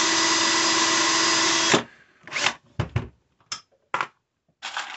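Brass .223 rifle cases being trimmed with an RCBS 3-way cutter head, a steady loud power-driven whir for nearly two seconds, then several short separate bursts of cutting and handling noise with gaps between them.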